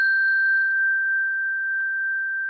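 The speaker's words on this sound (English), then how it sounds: "I have some chimes, and so just to feel like it clears the space" A single struck chime rings out clearly and alone, a bright sustained tone with overtones that fade quickly while the main pitch hangs steady and slowly decays through the whole stretch.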